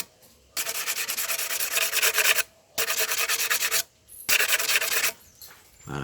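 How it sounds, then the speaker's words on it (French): Abrasive sanding on a homemade conch shell horn, done by hand in three loud, steady bursts of rubbing strokes separated by short pauses, with no voices. "je continue à poncer, je continue à poncer."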